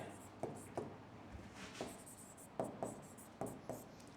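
Quiet pen strokes on paper, with short scratchy marks and taps arriving in an irregular rhythm, close but faint against a soft room background.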